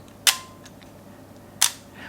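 Two crisp mechanical clicks about 1.3 seconds apart from a Minolta Zoom 110 SLR Mark II camera, the shutter opening and closing on a long exposure in dim light at f3.5, close and alone over a faint hum.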